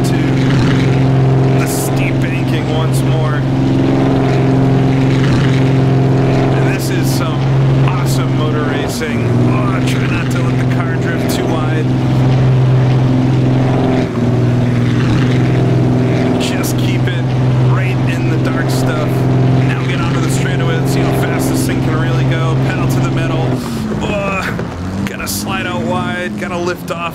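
A Napier Railton vintage race car engine in a racing video game drones at high, steady maximum revs throughout, loud and continuous, with someone talking over it.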